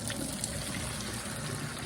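Water from boiled poke salad greens draining through a strainer, a soft steady trickle and splash running continuously at close range.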